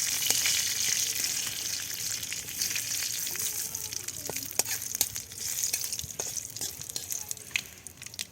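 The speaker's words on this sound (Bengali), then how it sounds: "5 ফোড়ন, শুকনো লঙ্কা তেলের উপরে দিলাম" Bay leaves, panch phoron and dried red chillies frying in hot oil for a Bengali lau chingri dish, a dense continuous sizzle with scattered sharp crackles and pops throughout, fairly close.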